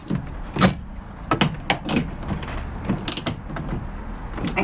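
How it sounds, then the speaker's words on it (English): Bolts on a Mazda MX5 gearbox boot are tightened with a ratcheting tool, giving short bursts of clicking and metallic ticks in irregular clusters, close up. "so now we can just tighten up the rest of these bolts"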